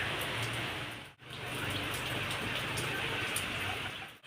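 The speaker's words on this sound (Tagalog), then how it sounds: "Rain, go away!" Steady rain pours down with a dense hiss of drops pattering on a surface, briefly cutting out twice, with no voices.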